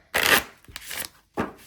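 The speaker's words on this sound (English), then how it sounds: "and then I shuffle one half" Half of an oversized Spirit Carrier oracle card deck being shuffled by hand: two or three quick riffling bursts with short pauses between them, close and fairly loud, with no talking.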